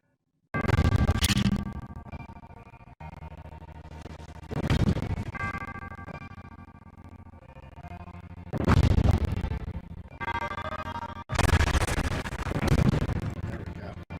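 Bomb detonations in Zelda: Breath of the Wild: four deep booming blasts spaced a few seconds apart, each a sharp loud onset decaying into a rumbling tail, with game music tones between them.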